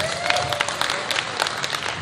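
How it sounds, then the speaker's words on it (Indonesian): An audience at a Kediri tourism event applauds a man being honoured, a dense, steady patter of many hands clapping at moderate distance, with a faint tone running beneath. "Tepuk tangan dulu buat Pak Ido"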